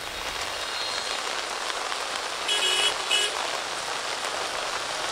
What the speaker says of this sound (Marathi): राज्यामध्ये सगळीकडेच पावसाचा जोर वाढला आहे